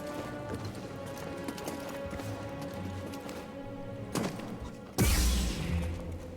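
A goat-like creature attacks in the video game Star Wars Jedi Fallen Order: clattering, hoof-like thumps over steady game ambience, then a loud, heavy impact burst near the end.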